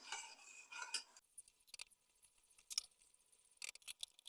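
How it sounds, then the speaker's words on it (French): Metal utensil scraping and clinking against a pot of redcurrant syrup on high heat in short irregular bursts, quiet in between, with no bubbling or voices. "On chauffe fort et on mélange souvent."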